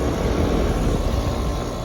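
A small 3.5-ton straight-cool air conditioner condensing unit runs in cool mode, sounding rough, with a loud, steady broadband fan-and-compressor roar close by.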